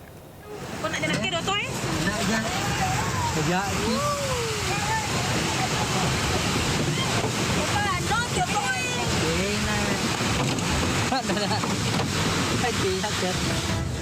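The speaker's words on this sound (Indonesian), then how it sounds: "Banjir bandang menerjang pemukiman penduduk di Desa Patiro Deceng, Kabupaten Maros, Sulawesi Selatan" A flash flood rushes through a village in Maros, South Sulawesi, after days of heavy rain, making a loud, continuous roar of turbulent water with wind noise over it and a voice talking throughout.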